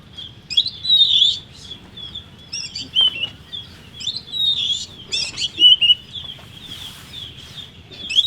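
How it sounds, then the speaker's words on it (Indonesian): Wild birdsong outdoors, including a starling (jalak) and an oriole (podang), with bursts of high chirping and whistled phrases repeating every second or so over a low background rumble, moderately near. "Ada jalak juga di sana, podang yang kicauan."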